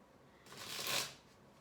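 A brief, soft riffle of a deck of tarot cards being shuffled, rising to a quick flutter and then fading, quiet and close.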